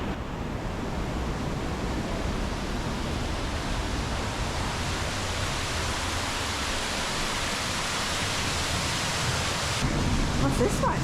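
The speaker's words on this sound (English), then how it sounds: "So this is the water mill." Steady rushing of flowing water at a water mill among buildings and fences in the Croatian countryside at Krka National Park, a broad, even wash held at one level throughout.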